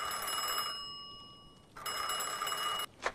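A mobile phone rings in the video game Mafia II, a bright electronic ringtone with sustained tones in two bursts separated by a short gap, followed by a brief sharp chirp at the end.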